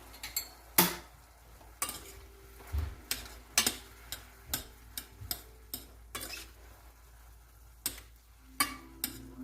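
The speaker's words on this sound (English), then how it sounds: "And then stir that around." A spoon stirring smoked paprika into a dish for oven roasted stuffed Cornish hens, with sharp intermittent clinks and taps against the cookware at an irregular pace, close and fairly quiet.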